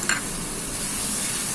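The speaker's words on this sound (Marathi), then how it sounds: "कांदा आणि टोमॅटो छान एकत्र होईपर्यंत छानपैकी परतून घ्या." Chopped tomatoes and onion sauté in a pan for a dhaba-style chole masala, giving a steady, close hiss of sizzling with a faint stir near the start, brief and unbroken, with no voices.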